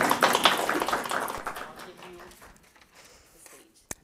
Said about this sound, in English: let's give her a round of applause and welcome her for her presentation tonight.